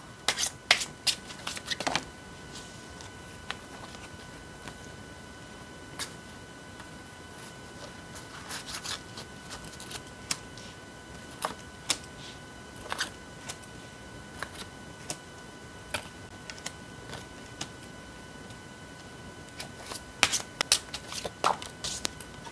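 Tarot cards shuffled quietly, with scattered light snaps and riffles at the start and end and sparse clicks between, faint over a low steady hiss, no voices.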